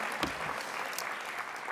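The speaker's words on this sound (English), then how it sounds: "Big round of applause for Miguel for keeping us going here at lunch" A luncheon audience at the 2019 SHPE National Convention claps for Miguel: a short, steady burst of many hands applauding at moderate volume, with no talking.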